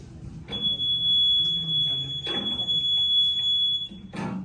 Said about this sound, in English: Oftentimes there will be a loud alarm associated with it.